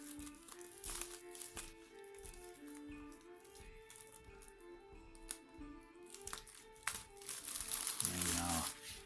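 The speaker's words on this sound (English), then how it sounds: "Take away the cellophane and see what we have." Cellophane wrap crinkles and tears as it is stripped from a Dark Ops Viking longship model kit box, with steady crackling through the stretch and a louder rustling burst near the end, while a person speaks over it.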